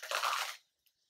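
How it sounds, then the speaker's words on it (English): A loud crunch of breakfast food chewed close up, a half-second burst of crisp crackling that stops abruptly, followed by near silence and a faint tick. "hear the crunch?"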